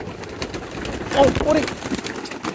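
Pigeons drinking water together coo softly in low, rolling calls over a steady wash of background noise and faint voices.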